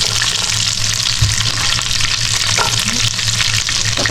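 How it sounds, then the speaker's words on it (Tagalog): Food sautéing in a pan until golden brown, a loud, continuous sizzle and crackle of frying with occasional stirring scrapes and clinks, heard up close with no talking. "igigisa na lang natin yan hanggang mag-golden brown"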